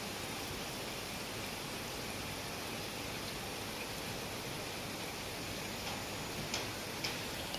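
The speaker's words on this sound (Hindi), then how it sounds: "इतनी तौबा बारिश है, नदी सामने उफान पे है।" Heavy, continuous rain pours near a swollen, rushing river in Ramgarh, Nainital, Uttarakhand, making a steady, dense and fairly faint hiss, with a few sharper drip ticks near the end.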